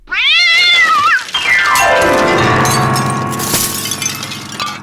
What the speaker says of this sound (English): the clever, clumsy Calico Cat, you always make a captivating but catastrophic grand entrance